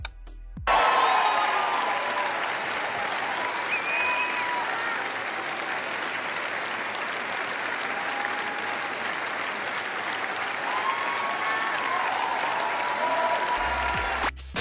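Standing ovation for Emilia Pérez at the Cannes festival, dense, sustained applause from a large crowd that starts suddenly and holds steady and loud for over ten seconds before cutting off.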